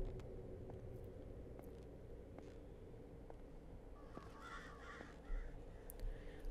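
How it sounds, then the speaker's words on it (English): Crows cawing in the distance at a campsite, a few faint scattered calls over steady outdoor background noise and low rumble. "Hear those crows in the back, Moits?"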